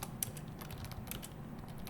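Keys being pressed on a computer keyboard, a rapid run of light, irregular clicks and taps at close range with no voices.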